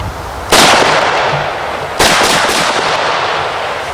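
A 30-06 rifle fires two loud, close shots about a second and a half apart, each a sharp crack followed by a long rolling echo that lingers outdoors.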